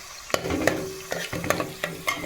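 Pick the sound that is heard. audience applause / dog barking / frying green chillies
frying green chillies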